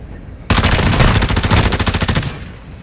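Sustained automatic gunfire from a firefight in the video game Call of Duty DMZ, a loud rapid burst beginning abruptly after a brief quiet moment and rattling steadily for about two seconds before tapering off.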